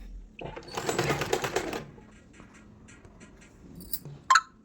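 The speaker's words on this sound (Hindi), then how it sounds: "पक्का करने के बाद यहाँ पे इसमें सिलाई लगानी है।" A sewing machine stitches a blouse in a short burst of rapid mechanical whirring for over a second, then falls quiet with a few faint clicks and a sharp tap near the end.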